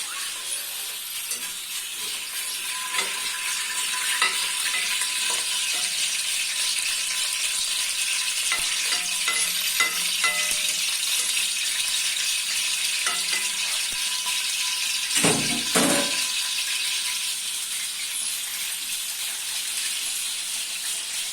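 Onion fries in ghee in a pan, making a steady, moderate sizzle throughout, with scattered light clinks and scrapes of stirring and one heavier knock partway through.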